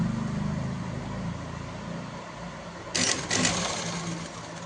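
A sewing machine stitches a salwar, running with a steady, close mechanical whir that slows and then picks up again in short bursts.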